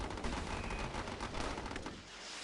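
Machine gun fire in a video game: a dense, continuous rattle of rapid shots blended into a noisy battle wash, moderately loud for the whole short stretch.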